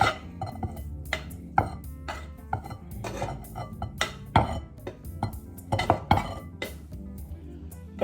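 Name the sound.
pouring meat, onion and potato mixture into a salad bowl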